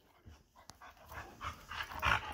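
A bluetick hound vocalizes close by in a short burst of dog sounds, with whimpering and panting noises building toward a louder yelp near the end rather than full barks.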